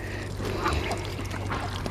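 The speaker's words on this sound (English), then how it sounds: "But the duckies will be staying." Ducks on a homestead quacking steadily at close range, a continuous busy chorus of calls with some bird noise mixed in, no talking.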